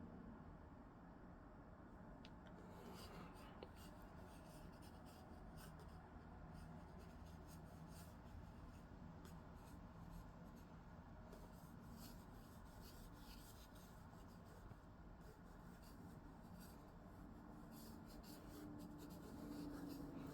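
Faint, steady scratching of pencil on paper, continuous light strokes and rubbing at close range, with no talking.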